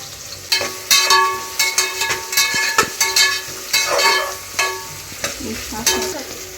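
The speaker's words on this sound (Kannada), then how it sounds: "ಚೆನ್ನಾಗಿ ಈರುಳ್ಳಿ ಎಲ್ಲ ಫ್ರೈ ಆಗಬೇಕು, ಅಲ್ಲಿ ಗಂಟ ಫ್ರೈ ಮಾಡ್ಕೊತೀನಿ." Onions and green chillies frying for Ambur biryani, a loud, close sizzle broken by repeated scraping stirs of a spoon in the pan, with no one talking.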